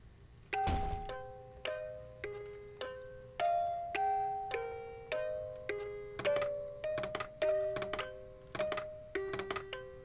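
A music box in the horror video game Layers of Fear plays a slow, tinkling melody of single plucked metallic notes, each ringing and decaying evenly, faint and alone with no talk.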